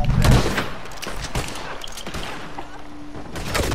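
Gunfire in a video game shootout in Red Dead Redemption 2: a run of sharp shots, loud and close, spread through the moment with short gaps, with faint game sounds underneath and no clear speech.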